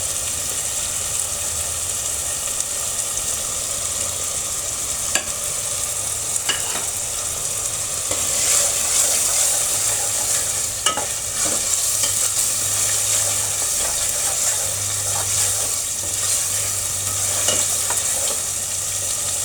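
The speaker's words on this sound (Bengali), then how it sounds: "আদা বাটা, রসুন বাটা আর পেঁয়াজ বাটাটা ভালো করে কষাই নিচ্ছি যেন কাঁচা গন্ধটা না থাকে" Ginger, garlic and onion paste fries in hot oil with cloves, bay leaf and cinnamon for a beef curry, a steady close sizzle broken by occasional spoon scrapes and taps against the pan, with no talk.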